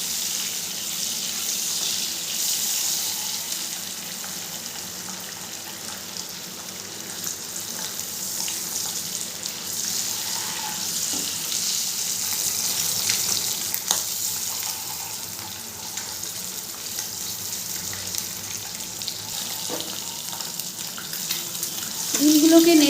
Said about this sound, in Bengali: ডিমগুলোকে নেড়ে চেড়ে খুব ভালো করে ভেজে নেব লাল করে।